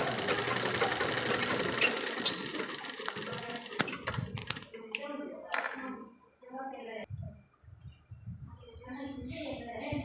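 A sewing machine stitching a single-piece blouse panel. Short bursts of mechanical whirring alternate with pauses, and someone talks quietly between and over the runs.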